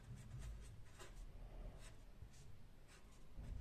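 Pen scratching across paper while working out a math problem, faint short strokes in an irregular rhythm over a low background hum.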